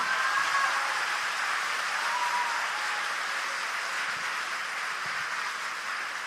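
Audience at a seminar applauds the student organizers, a sustained and even patter of many hands clapping that fades slightly toward the end, with no speech over it.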